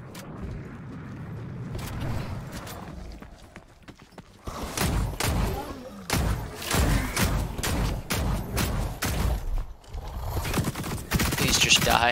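Long shot rifle in The Cycle: Frontier fired repeatedly at brutes, a run of sharp loud reports in quick irregular succession after a quieter opening, with in-game combat noise around them.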